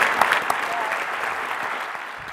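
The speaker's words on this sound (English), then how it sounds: "I'll give a round of applause to our panel" Audience applause for an environmental justice panel, a steady wash of clapping that is loud at the start and holds through the whole stretch.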